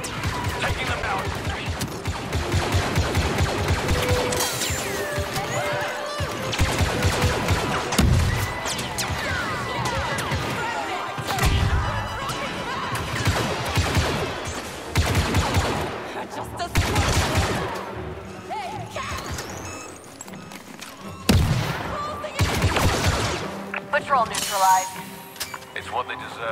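Star Wars Battlefront 2 blaster fire during the Battle of Endor, rapid bursts and volleys of shots crackling repeatedly amid music and shouting voices, loud and close.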